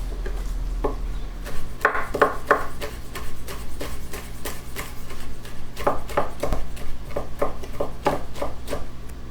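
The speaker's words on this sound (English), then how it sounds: "Next, I'm gonna go ahead and get my bacon. Put it all together just like that, y'all. We're gonna chop it up." Bacon is chopped with a knife on a cutting board in a home kitchen, a run of steady, crisp thuds in quick irregular bursts with brief pauses, close and clear.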